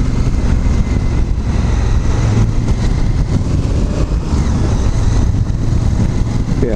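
A 2016 Honda CRF1000L Africa Twin motorcycle rides at about 70 in strong wind, steady broadband engine and wind roar filling the whole stretch at constant loudness.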